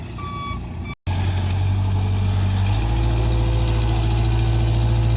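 A truck backing up gives repeated high reversing beeps at first, then its engine roars loudly and steadily, idling and revving close by, with no voices.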